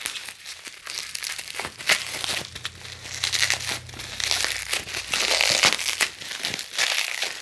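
Bubble wrap wrapped around a beer can crinkles and crackles in irregular bursts as it is handled close up, fairly quiet with no talk.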